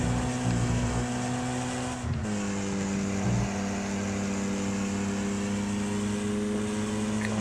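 Race car engines in a Wreckfest race on the final lap, a steady loud droning roar with a brief dip and gear shift partway through, then holding a constant high pitch with no talk.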